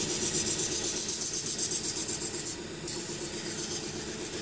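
A knife is pressed onto the contact wheel of a Vevor 1x30 belt grinder, giving a loud, continuous abrasive rasp with a rapid pulsing rhythm from the belt. It breaks off briefly near the middle, then resumes.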